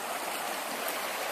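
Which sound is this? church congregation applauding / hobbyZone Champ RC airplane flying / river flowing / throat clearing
river flowing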